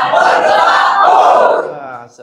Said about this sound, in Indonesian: beri aplaus buat teman-teman semua